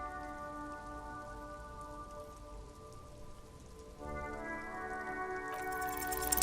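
Steady rain patters on surfaces in the video game Disco Elysium, a continuous hiss over a low, sustained musical drone that shifts partway through, moderately loud, with no voices.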